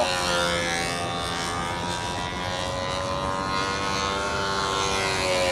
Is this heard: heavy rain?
no